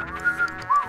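A whistle sound effect from the PC game The Sims 1: a few short, clear tonal toots in quick succession, followed by a slightly longer final note, all close and isolated.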